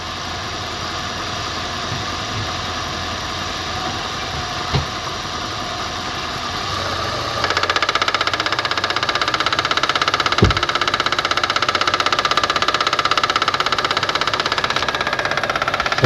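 An idling Suzuki Grand Vitara runs with a rapid, steady knocking from its failing A/C compressor, which grows noticeably louder and harsher partway through once the air conditioning engages, with a couple of sharp clicks, close and continuous.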